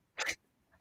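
A single loud, sudden sneeze bursts out nearby, sharp and breathy, then fades into near silence with only a faint trailing sound.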